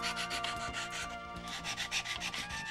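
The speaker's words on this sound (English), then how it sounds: "Sand the slot smooth." Sandpaper rubs steadily back and forth in a slot cut into a wooden I-beam spar, a close, continuous scratchy hiss with rhythmic strokes and no talking.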